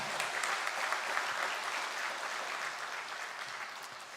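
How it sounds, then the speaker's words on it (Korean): A congregation applauds during a Korean Methodist church's Sunday worship service, a steady, dense wash of clapping from many hands that fills the room without pause and fades only slightly at the end. "우리 박수 하겠습니다"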